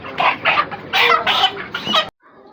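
Chickens cluck and squawk loudly and close in bursts at a poultry shop where birds are sold by weight, then cut off abruptly into quiet.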